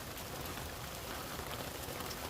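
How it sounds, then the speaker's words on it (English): Dense, steady rain falls outdoors on a wet day, a constant close patter of drops with no other sounds. "it's a rainy day."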